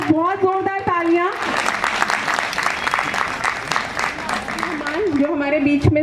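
Audience applause at a retirement ceremony for a teacher, a dense burst of clapping that swells in right after a voice and fills the room, with her speech returning faintly over the tail.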